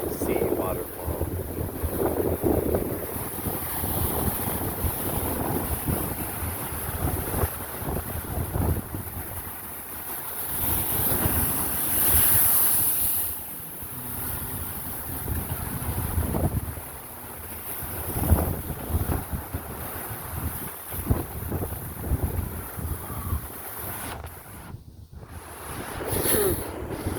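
Big ocean waves crash and surge against a sea cliff in repeated heavy rumbling bursts, mixed with strong wind buffeting the microphone, while people talk intermittently nearby.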